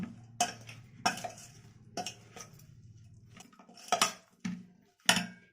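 A spoon stirs white vinegar into a radish and green chili pickle, giving about six sharp clinks and scrapes against the container, spaced irregularly over a faint low hum.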